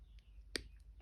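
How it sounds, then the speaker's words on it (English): Wire cutters snip through jewelry wire while wire-wrapped earrings are being made, giving a single sharp, close click midway through an otherwise quiet moment. "then coming in with your cutters,"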